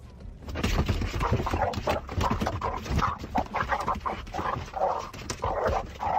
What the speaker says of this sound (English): This dog really hates these wipers.